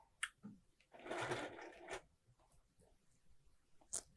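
A longarm quilting machine sewing a single stitch on a bag project, a brief burst of mechanical whirring with a few soft clicks before and after, close and fairly quiet.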